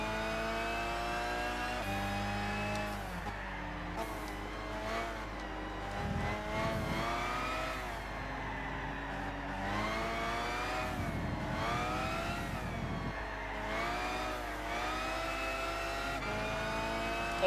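Race car engines roar continuously in Gran Turismo 6 on the Tour of Japan while chasing a Nissan GTR. The pitch climbs and drops through gear changes, loud and close, with no talking.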